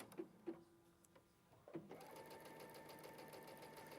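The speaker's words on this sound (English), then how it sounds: "Now let's sew the other way. Look, now it's sewing to the right." A domestic sewing machine stitching fabric, starting with a few clicks and brief hums, then settling into a steady, continuous motor whir with rapid needle ticking, close and without speech.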